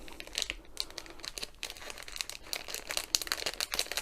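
Close, crisp crinkling of plastic packaging being handled and pulled open, a continuous run of small rustles and crackles with no talking.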